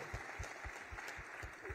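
Applause from an audience at a transportation policy panel discussion, a faint, steady wash of clapping with soft low thumps, distant and continuous for the whole stretch.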